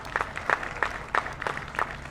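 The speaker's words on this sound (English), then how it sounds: "we want to give a big round of applause to LMW Design." A small audience at a Mad Pride rally claps together, a faint, fairly even patter of hands over a couple of seconds.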